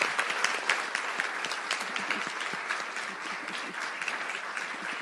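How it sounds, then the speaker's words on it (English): A room full of people at a local council candidate forum clap for the candidates, a steady crackle of many hands at moderate distance that carries evenly through the whole stretch without speech. "Let's give them a round of applause,"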